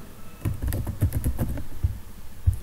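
A computer keyboard is typed on in a quick burst of close, crisp keystrokes, then a few slower isolated taps, with no talking.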